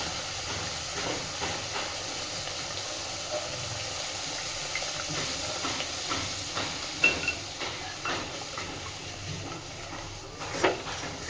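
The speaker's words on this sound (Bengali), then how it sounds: "খুব হালকা হাতে মশলাটা একটু কষে নেব।" Spice paste for potol posto, sweetened with a pinch of sugar, fries gently in a pan with a steady, close hiss. A few louder pops and scrapes stand out near the end, and no one speaks.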